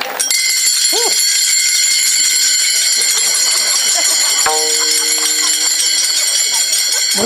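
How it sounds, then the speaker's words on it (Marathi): Taal hand cymbals played in a kirtan, bright shimmering metallic ringing held throughout, one sharp strike midway and a brief vocal sound near the start. "टाळ."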